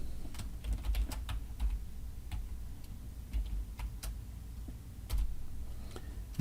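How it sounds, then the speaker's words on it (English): Clicks of typing on a computer keyboard, with a scattered run of separate keystrokes at an uneven pace, fairly quiet and close, with no talk. "And I'm going to type a yes or a Y."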